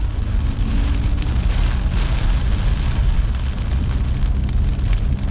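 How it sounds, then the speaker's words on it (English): Heavy rain hammers and bounces off a road around a moving car, a dense, steady roar of drops on the surface and bodywork, loud and continuous with no talk. "Rain bouncing off the floor, vision isn't as good."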